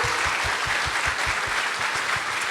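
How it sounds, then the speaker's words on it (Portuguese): A church congregation at a Sunday morning prophetic conference service claps steadily, the broad wash of applause carried over a regular, low thumping beat that keeps even time throughout. "Vamos dar uma salva de palmas para Jesus"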